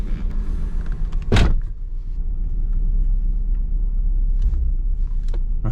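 Mitsubishi 3000GT VR4 driving at low speed up to a house, a steady low engine rumble throughout with a sharp knock or thump early on and light rattles later, no voices.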